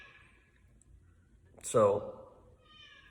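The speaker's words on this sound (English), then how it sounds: "that's my cat" A pet cat gives a single loud, drawn-out meow close by, rising out of a quiet room with faint talk just before it.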